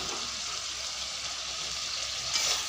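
Fried pointed gourd being stirred in a pan, a faint, even sizzle with a soft hiss that swells slightly toward the end, heard alone without voices.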